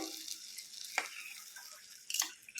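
A tempering is poured into bisi bele bath. A faint, soft sizzle is broken by two brief louder hissing bursts, one near the start and one later, with no voices.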